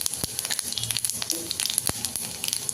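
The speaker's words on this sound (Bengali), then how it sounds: "তেল গরম হয়ে গেছে, আমি কালো জিরে আর সামান্য 5 ফোড়ন দিয়ে দিব।" Black cumin and five-spice seeds hit hot mustard oil for frying hilsa, giving close, busy sizzling with rapid popping crackles throughout.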